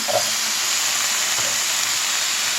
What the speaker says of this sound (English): I'm going to add in my onion now